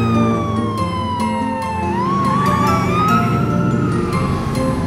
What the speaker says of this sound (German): Polizeiauto.